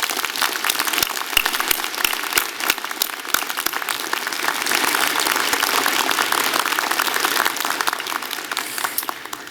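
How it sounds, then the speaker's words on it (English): A graduation convocation audience applauds in a large hall, dense sustained clapping that builds and carries on for several seconds, heard from within the crowd. "I'd like a big round of applause for the students who've made that building possible."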